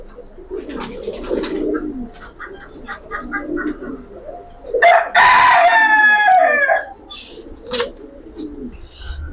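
Silver and Pankhi pigeons coo in low, throaty murmurs in a loft, interrupted midway by a loud rooster crow and a few sharp bird calls nearby.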